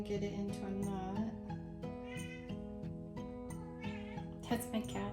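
A pet cat meows vocally indoors during a quiet cross-stitch session, its repeated cries overlapping with other ongoing sounds throughout.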